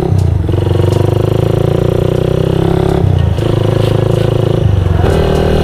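A motorcycle engine runs loud and close on a ride through potholed city streets, a steady throbbing drone with slight shifts in pitch as the rider eases off and picks up speed again.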